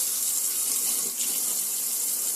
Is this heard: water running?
yes